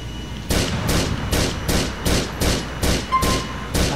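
Sniper rifle gunshots in GTA 4, about nine sharp, loud reports fired at a steady rhythm roughly every half second, each with a short rumbling tail and no talk over them.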